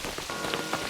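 Steady heavy rain pours down as a dense, even hiss of drops patters on a surface throughout, with no other sounds on top.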